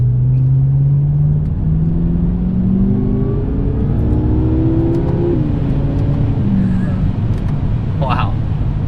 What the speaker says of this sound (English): Alright, third gear.